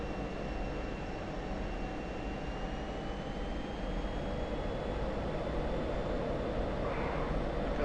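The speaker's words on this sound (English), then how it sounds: "that engine spooling, oh, it sounds absolutely gorgeous." An F-16 jet engine spools up, droning steadily with a rising whine, constant and rumbling throughout, heard from inside the aircraft at moderate level during airshow practice.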